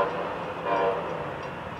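Florida East Coast work train crossing Michigan Street in the morning, a steady rumbling roll of cars and wheels heard up close, swelling briefly in the middle with no voices over it.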